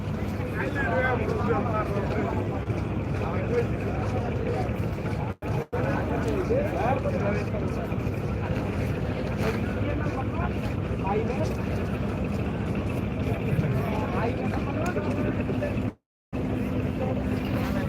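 A river cruise trawler engine on the Dhaleshwari River drones steadily throughout, with indistinct chatter from people mixed into the continuous low rumble.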